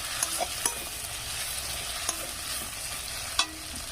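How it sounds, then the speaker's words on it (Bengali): Ginger and green chillies frying gently on low heat in a pan for a pumpkin dish, a steady close sizzle broken by a few light stirring clicks, with no talk. "এগুলো কিন্তু হালকা আঁচে ভেজে নিতে হবে, নাহলে আদাটা পুড়ে যাবে।"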